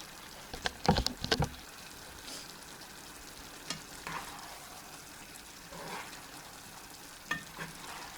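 Onion and carrot stew in a pot for Uzbek mashkichiri: a few sharp utensil scrapes and knocks near the start, then a soft, low simmering sizzle with occasional quiet stirs, heard close with no talking.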